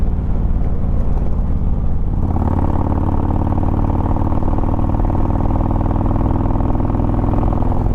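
Harley-Davidson motorcycle V-twin engine, close and loud, rumbling at a lumpy idle before the throttle opens around two seconds in and it climbs to a steady higher rev that holds.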